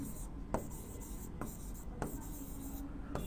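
Chalk or marker scratches across a classroom board while a sentence is written, a few short scraping strokes spaced about a second apart over a hushed room tone.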